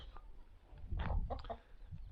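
Village chickens cluck softly while being fed corn, a few scattered low calls and short clucks heard at moderate distance over quiet outdoor background.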